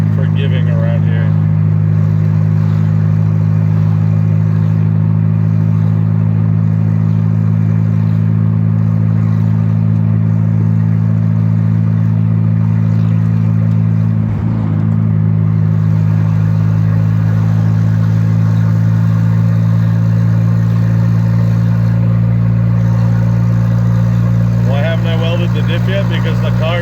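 A turbocharged Volvo car engine drones loudly and steadily from inside the moving car, holding a low hum with slight swells of revving throughout, and a person talks over it.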